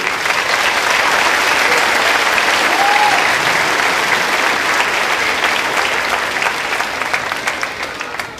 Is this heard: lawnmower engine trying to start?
no